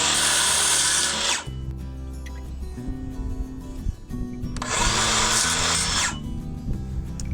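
A power saw cuts through a wooden box beam, with two loud, sustained bursts of whining blade noise broken by a quieter stretch of hum and clatter between them.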